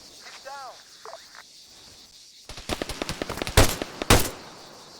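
Machine gun fire in ARMA 3 combat comes in rapid bursts of sharp cracks, preceded by brief voices and quieter sounds, then loud sustained volleys with a couple of heavy blasts.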